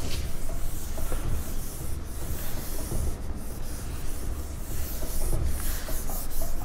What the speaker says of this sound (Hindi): तो मैं इसको रब कर रहा हूँ।